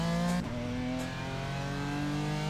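A racing car engine in a sim racing game drones at steady high revs on the digital Nürburgring, a loud buzzing tone with a brief gear-change dip near the start.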